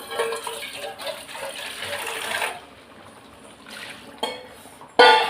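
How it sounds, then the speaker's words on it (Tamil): Water pours into a pot of mango curry (kuzhambu) cooking on the stove: a steady gushing splash for about two and a half seconds, then quieter trickles and a sharp clink near the end, with no talking. "இன்னும் கொஞ்சம் தண்ணி ஊற்றிக்கலாம்."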